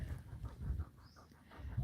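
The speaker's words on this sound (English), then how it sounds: "So you can see she's panting a bit," A female sun bear at a Cambodian sanctuary pants in quick, soft, rhythmic breaths, faint and close, with no talk over it.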